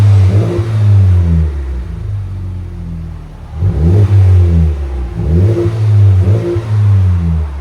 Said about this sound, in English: 2020 Honda Civic Type R, fully straight pipe now.